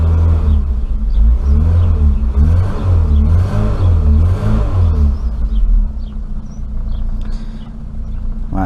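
An Austin Maxi engine runs steadily at close range after its first start in three months, a loud low rumble with rhythmic pulsing and slight revving swells, easing a little toward the end.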